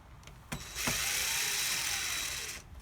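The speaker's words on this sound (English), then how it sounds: "All I have to do is get the screwdriver, take the old one out, just a few screws," A screwdriver works screws out of an outdoor electrical outlet box, giving two sharp clicks and then a steady metallic grinding whir that runs for about two seconds, close and fairly loud, with no talking.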